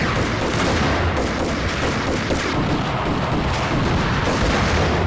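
Dense, continuous gunfire from the player in the shooter game Max Payne, loud and close, with shots packed so tightly they blur into one unbroken roar.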